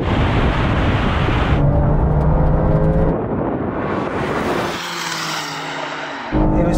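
Cars launching in a drag race between a 600-horsepower all-wheel-drive BMW M3 and a Porsche 911 Turbo S, with one car spinning its tires; loud, continuous engine roar and tire noise that shifts in pitch partway through.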